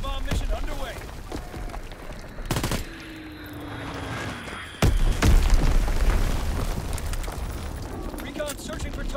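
A grenade blows up in the World War II shooter Call of Duty WWII: one heavy, booming blast midway through, after scattered gunfire and sharp cracks, with voices heard faintly in the mix.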